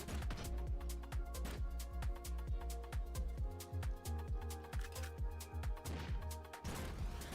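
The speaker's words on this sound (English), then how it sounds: "Direct hit with the missile, sir." A video game missile strike sets off a rapid series of sharp explosive booms and crashes, dense and rhythmic, loud throughout with no voices.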